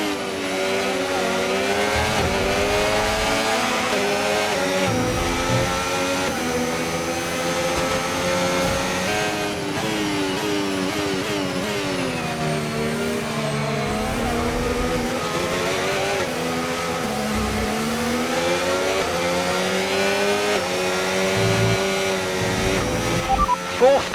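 A Formula 1 car in the F1 25 game screams at speed, its engine note rising and falling through gear changes for a sustained, steady run while a race engineer's radio voice speaks over it.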